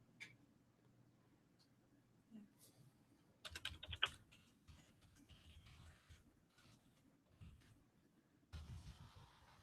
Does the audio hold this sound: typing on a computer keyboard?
yes